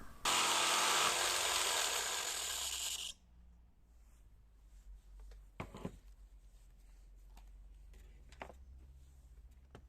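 A power tool cuts a sink opening through a taped bamboo panel, a loud steady whine for about three seconds that stops abruptly, followed by quieter clicks, knocks and handling noises.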